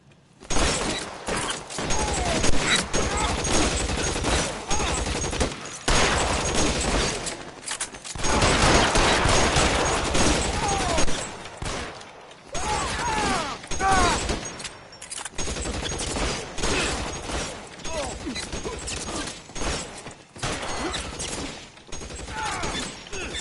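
Video game gunfire in dense, continuous bursts of rapid shots and automatic fire, loud and close, with brief gaps between volleys and some mechanical clatter.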